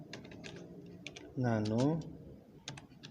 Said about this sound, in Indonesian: Kita atur dulu di Debian. Kita ketik nano